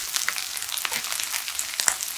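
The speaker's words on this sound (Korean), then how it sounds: "버터가 녹으면 마늘과 대파를 넣고 골고루 볶아 풍부한 향을 더해주세요" Garlic and green onion stir-frying in melted butter in a pan: a steady, close, bright sizzle with scattered small crackles and pops throughout, no voices.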